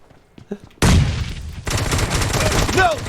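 Bursts of gunfire crackle loudly from a PUBG Mobile match, with a long sustained volley followed by continued shooting and a whizzing sound, no talk in between.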